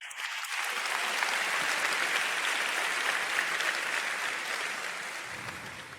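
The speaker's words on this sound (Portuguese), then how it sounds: "uma salva de palmas para Jesus" A church congregation at City Harvest Church in Singapore applauds during a Portuguese-language service, a steady roomful of clapping that swells quickly and holds for about six seconds before easing slightly.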